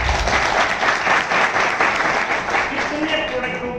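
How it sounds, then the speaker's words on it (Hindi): Loud, dense applause from a crowd at a health products meeting, a steady wash of many hands clapping together without a break, with some voices mixed in toward the end. "जोरदार तालियां दीदी के लिए"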